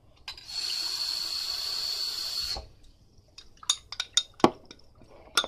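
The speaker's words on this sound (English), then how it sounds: "and then put warm water in it." Warm water pours steadily into a honey and lime juice mixture for about two seconds, then stops, followed by a few close clinks and taps of a utensil or container.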